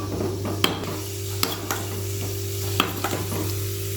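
Cashews roast gently in a pan over low heat, giving a soft, steady sizzle. Several sharp scrapes and clinks of a spoon stirring against the pan cut through at intervals.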